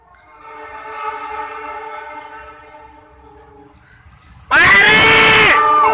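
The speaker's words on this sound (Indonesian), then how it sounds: "Persiapan KA KLB uji coba KA Kamojang relasi Garut Pasar" An Indonesian Kamojang passenger train on a trial run from Garut to Pasar Senen sounds a long, steady horn, then a much louder, harsher horn blast bursts in near the end.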